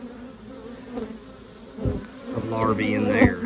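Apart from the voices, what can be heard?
forager honey bees buzzing around hive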